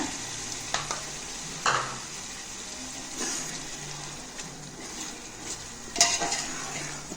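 Yogurt being mixed into raw mutton for dum biryani: a spoon scrapes and clinks against the pot in a few separate strokes with soft wet squelching between them, fairly quiet and close.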